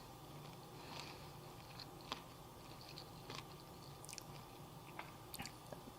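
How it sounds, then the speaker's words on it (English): Someone chews crunchy gluten-free millet and seed bread close to the mic, with soft wet chewing and small sharp crackles of seeds breaking at irregular moments against a quiet room. "I love the crunch of the seeds."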